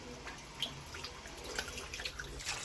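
Fish being washed under running water in a kitchen, a faint steady stream with small drips and splashes, fairly quiet with no talk.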